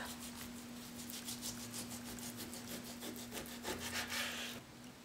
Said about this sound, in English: Slice the beef about 1/4 inch thick.